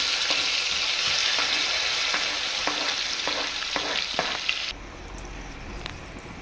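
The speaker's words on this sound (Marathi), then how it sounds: "लसूण आपण थोडं असं परतून घेऊ।" Garlic and tomato sautéing in a pan for a palak dal hiss loudly and steadily, with a few light spatula taps, before the sizzle abruptly drops to a quieter hum near the end.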